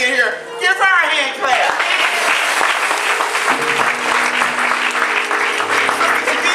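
Church congregation clapping at a Mother's Day service, a loud, full burst of applause that holds steady throughout, with a voice talking over the opening and light organ tones underneath.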